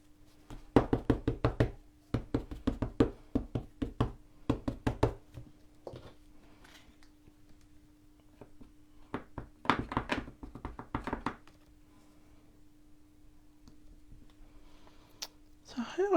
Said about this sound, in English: So let's just quickly re-stamp another one.